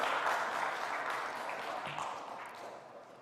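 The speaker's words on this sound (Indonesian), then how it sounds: "Itu boleh tepuk tangan, silakan." Audience applause at an Indonesian academic talk on higher-education standards and accreditation: a steady, soft wash of clapping from a crowd that fades slightly toward the end, with no voices over it.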